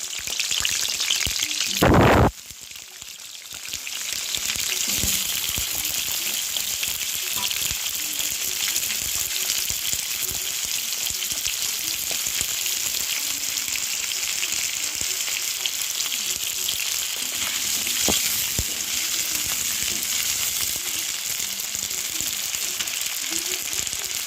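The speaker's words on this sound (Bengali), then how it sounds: "এবার ধুয়ে রাখা সমস্ত আলুগুলো কড়ার মধ্যে দিয়ে দেবো।" Washed, diced potatoes go into hot oil in a kadai. After a short loud burst, a dense, even sizzle of frying runs steadily to the end, close and with no talk.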